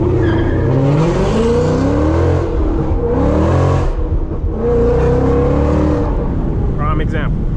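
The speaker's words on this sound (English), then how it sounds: "That was me like easing off the clutch just real slowly, and it still just spun" A Whipple-supercharged Mustang with a manual clutch spins its tires on fresh pavement, the engine roaring loud and close with squealing wheelspin while someone talks over it.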